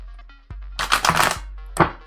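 Tarot cards riffle-shuffled in a single burst of dense rapid flutter, followed by a short tap and one more brief riffle, up close with no talking.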